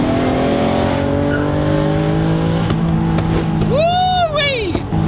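An Acura NSX Type S engine revs loudly and steadily, with its pitch sweeping up as it accelerates, close to the microphone, and a voice cuts in near the end.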